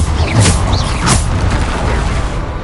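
Bombarda explosion spell cast in Hogwarts Legacy, a dense booming blast with broad crackling noise and a couple of sharp bursts, loud and continuous throughout without speech.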